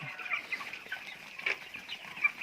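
Young chicks on a farm peep and cluck softly while they stand feeding together, scattered short calls, with a few slightly louder chirps, faint and close with quiet background.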